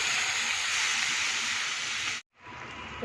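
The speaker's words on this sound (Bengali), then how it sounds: "ঝোলটা ফুটছে" Fish curry broth boiling in a pot, a loud steady hissing rush from close by that cuts out briefly near the end and then resumes more quietly.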